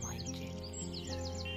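Small birds chirping in quick, high, repeated tweets, fairly faint and slightly distant, over a steady low tonal hum with no talking.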